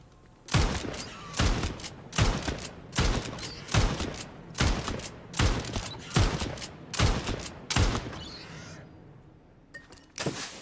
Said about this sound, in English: Let's try my gun now.